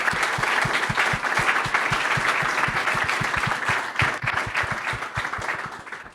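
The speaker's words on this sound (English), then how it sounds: "a big round of applause, please, for all these guys in the room" A conference audience indoors gives a sustained round of applause, many hands clapping steadily before it begins to fade.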